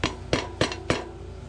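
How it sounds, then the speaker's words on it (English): A seal is hammered into a WP 85SX motorcycle fork for a Sur-Ron Ultra Bee: four sharp, evenly spaced metallic taps ring out close up with no talking. "hold it nice and steady and hammer it"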